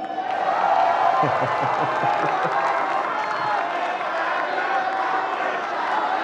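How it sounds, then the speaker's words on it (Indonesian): A large crowd applauding steadily and fairly loudly, with a murmur of voices and some cheering mixed into the clapping. "Boleh sekarang tepuk tangan, mari."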